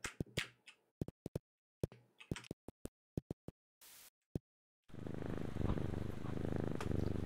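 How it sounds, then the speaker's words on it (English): Video game music from Knytt Stories, meant to sound like a cat: sparse clicking, snapping pulses separated by silence, followed by a steady, loud, dense purr-like drone. "It's like creepypasta music, but it's actually supposed to be a cat."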